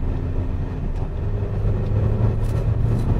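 Peugeot 3008 family SUV driving on the road, a steady low engine and road rumble with a faint tonal hum, continuous and fairly loud from inside the cabin with no talking.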